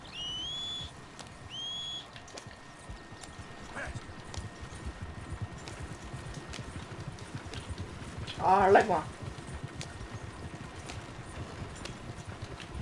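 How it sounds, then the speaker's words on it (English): Horse hooves clip-clop steadily under ongoing talk and whistles while a horse follows riders in Red Dead Redemption II, with a brief louder clatter near the end. "My horse is following us."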